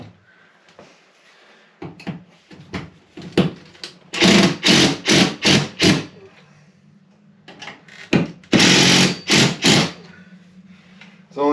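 Electric drill or driver screwing a Rheem electric on-demand water heater to a wall, heard as several bursts of whirring, a quick series of short pulses then a longer run, with quieter handling noises and a voice in between.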